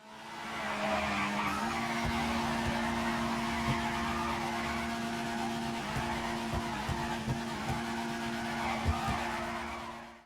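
A car drifts in GTA 5, its engine holding a steady drone under a sustained tire squeal, with small clicks and bumps scattered through the slide.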